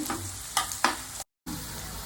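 Onions fry in a pan with fenugreek for chicken leg curry. A continuous sizzle is broken by two sharper stirring scrapes, then a brief total dropout before the frying hiss returns.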